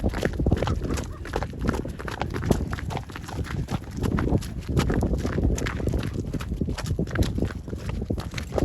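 Continuous rhythmic hoof clops of powerful Ardennes and PKZ draft horses moving close by, with heavy wind noise over the microphone.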